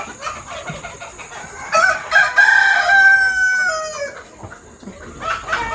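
A rooster crows in a long drawn-out call over steady hen clucking on a poultry farm in the Philippines, the birds fairly close and alone without talk.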